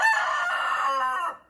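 A rooster crows loudly and close by, one long sustained call that holds steady before trailing off at the end, near a flock of hens.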